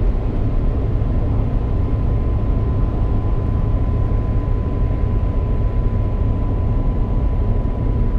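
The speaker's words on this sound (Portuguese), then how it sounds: "Ouça o ronco deste carro no túnel." A Rover car's engine roars in a tunnel as a loud, steady, enveloping low drone with a faint constant whine running through it, continuous for the whole stretch without any talk.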